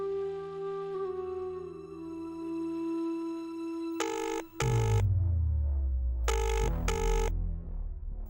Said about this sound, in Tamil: மூர்த்தி ஃபோன் எடுக்க மாட்டேங்கிறான